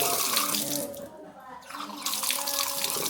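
Tap water gushes steadily from faucets at a prayer-room ablution area at night, a loud continuous splashing that dips briefly in the middle before surging again.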